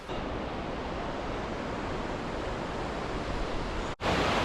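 Steady rushing water on a mountain trail at Tuckerman Ravine fills the clip with a broad, constant roar, briefly cut by a short gap near the end.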